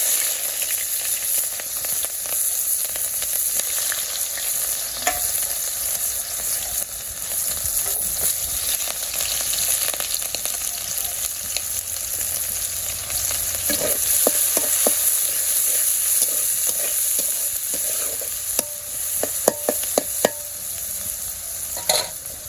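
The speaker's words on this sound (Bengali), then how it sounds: "আমার পেঁয়াজ ভাজা হয়ে গেছে" Chopped onions frying in oil for a village-style spicy chicken curry, a loud continuous sizzle broken by repeated scraping stirs that grow more frequent toward the end, with no voices.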